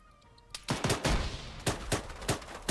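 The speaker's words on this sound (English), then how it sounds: "That sounds like one of them's in that 50 cal, yep." A heavy .50 cal machine gun fires in the Arma 3 video game, loud and close, as a rapid burst of about ten heavy booming shots after a brief quiet lead-in.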